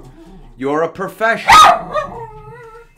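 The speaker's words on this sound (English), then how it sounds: "Sorry, that's my dog." A pet dog gives a few sharp yips and a bark close by, mixed in among a person speaking.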